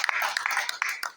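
Audience applause at a Paris conference of the MGC, a brief burst of dense, close clapping with a few sharper individual claps standing out.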